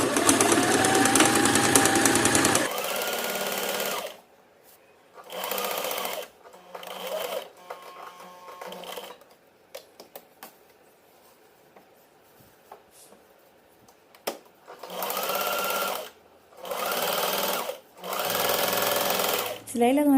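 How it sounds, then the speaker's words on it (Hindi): Sewing machine stitching kurti fabric along a drawn neck line, running in bursts of rapid mechanical whirring separated by pauses, loud and close, with someone speaking between and over the bursts. "जो भी हमने लाइन ड्रॉ कर रही है हमें उसी के ऊपर सिलाई लगानी है इसी तरह से"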